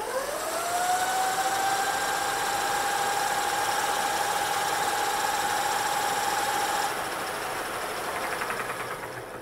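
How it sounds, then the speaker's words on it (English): Electric drive spinning a back tire at high speed with no load, a rising whine that settles into a steady high-pitched tone, then cuts off near the end, leaving a fading hum. "the back tire is spinning at 807 RPM, no load"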